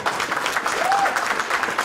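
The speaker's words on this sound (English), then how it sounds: "I think he should get the round of applause for" An audience at a community summit of imams, rabbis and community leaders gives a steady round of applause, dense even clapping with a faint whistle partway through, filling the whole moment without a break.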